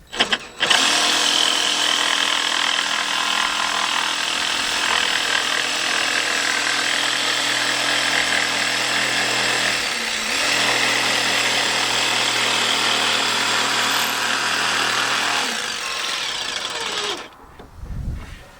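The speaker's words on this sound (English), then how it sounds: "Put my jigsaw and then just slightly slide it so I'm cutting the right side of the line." A jigsaw cuts along a marked line in wood for a model railway layout, a loud, steady, close rasping buzz that runs almost unbroken for about sixteen seconds before stopping.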